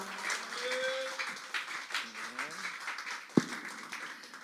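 A congregation claps to welcome a speaker at a Tuesday worship service, a soft, distant patter of applause mixed with voices.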